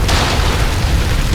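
A single loud, close explosion in Tomb Raider, a broad booming blast that fills the short moment without talk.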